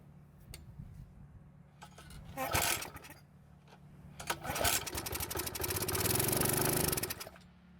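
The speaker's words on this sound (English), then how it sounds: "the engine started and ran for a second or two" A Yard Machines edger's small engine sputters, catches briefly, then revs and runs for a couple of seconds before dying down; a voice is heard briefly.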